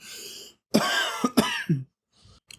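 Several rough coughs and throat-clearing bursts in quick succession, close and fairly loud, separated by brief silences.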